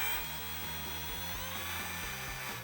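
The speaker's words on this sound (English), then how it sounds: "I'll switch directions on my drill and go the other way" A handheld drill with a degasser attachment stirs homemade wine, producing a close, loud mechanical whir with a rapid, regular ratcheting pulse as the paddle churns the liquid.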